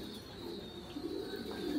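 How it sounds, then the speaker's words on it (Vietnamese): Giant chicken pigeons on a pigeon farm give soft, low cooing calls, faint and close, over a quiet background hum. "chim bồ câu gà ở trại mình đang vào đẻ hết rồi anh em nhé"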